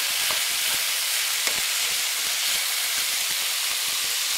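Snowshoe hare meat sizzles in a frying pan, a steady close hiss of hot fat broken by small crackles and pops, with no talking.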